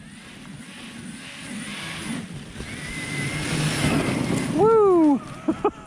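An Arrma Outcast EXB 8S RC car driving through snow, its motor buzzing faintly at first and then swelling into a loud, close whining rev that climbs and drops, with a few short bursts afterward.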